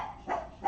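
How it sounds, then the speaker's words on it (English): A single indoor dog lets out two short, close barks in quick succession, sharp and fairly loud. "you never know when they're gonna just start barking"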